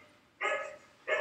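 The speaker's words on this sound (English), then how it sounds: "dog barking." A dog gives two short, clear barks, fairly close and separated by a brief pause, with nothing else heard around them.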